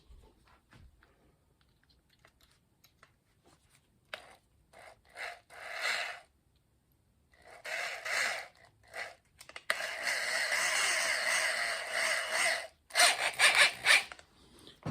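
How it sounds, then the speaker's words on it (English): A drill boring out the hanger hole on a vintage Volks Cycles Mark X bicycle frame, heard as short intermittent grinding bursts that build into a longer continuous rasping run before stopping, close and fairly quiet, with no talk. "I'm going to drill it out in preparation for the tap."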